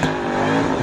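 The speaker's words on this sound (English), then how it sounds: "Oh, the whiny, whiny, whiny of a supercharger" A 2004 SVT Cobra Terminator doing a burnout, its supercharger letting out a loud, steady high whine over the engine roar, heard close up for a brief moment.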